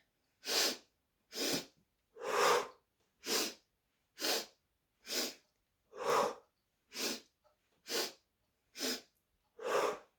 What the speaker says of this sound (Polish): wdech, wdech, wdech, wydech, wdech, wdech, wdech, wydech przez nos, wdech